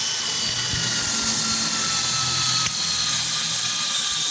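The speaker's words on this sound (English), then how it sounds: "whichever way your drill goes into the metal is how that rivet's going to sit" Power drill boring rivet holes into metal while building a spangenhelm helmet, a steady loud continuous whine with a brief sharp click partway through.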